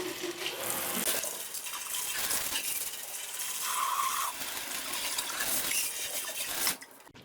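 Tap water runs steadily into a sink while a Keurig K-Supreme coffee maker's water reservoir is rinsed, with a loud continuous splashing stream, small clinks and shifts as the reservoir moves, ending with the flow cut off.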